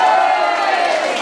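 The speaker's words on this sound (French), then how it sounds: "je crois qu'on peut encore applaudir bien fort notre ami à la batterie, Joël." An audience at a live music show in a bar in Landrecies, France, cheers and claps for the drummer. It is a loud, dense, continuous crowd roar throughout.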